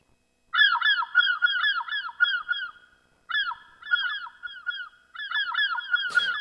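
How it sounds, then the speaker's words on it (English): Repeated honking goose-like bird calls overlap in layered bursts, clear and fairly close, with short pauses between groups and a brief noisy burst at the end. "I should essentially hear the individual birds coming in one after the other at a certain random amount of time."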